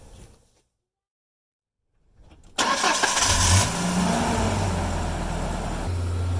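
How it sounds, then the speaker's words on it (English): A 1998–2001 Ford Ranger pickup with a 2.5L engine cranks and starts after a short silence, then settles into a loud, steady idle as it is backed off ramps. "now we're going to back it off the ramps and check the oil"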